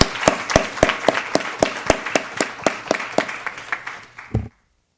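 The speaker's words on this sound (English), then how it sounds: "I'd still like to offer up a round of applause." An audience at a county school board meeting gives a round of applause: about seventeen clear, evenly spaced claps from a small group, close and crisp, ending after a few seconds.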